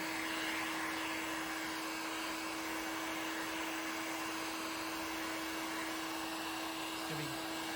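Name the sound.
heat gun heating fiberglass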